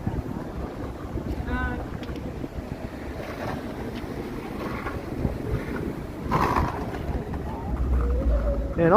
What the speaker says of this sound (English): there's a chilly wind this evening, which I'm currently walking directly into.